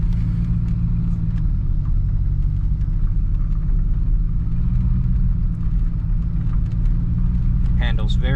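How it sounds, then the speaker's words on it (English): A 1979 Ford LTD II rolls along in drive with a steady low cabin rumble of engine and road noise, smooth and continuous, with a brief higher sound near the end. "now I'll seatbelt myself up and we can go for a short little drive around here"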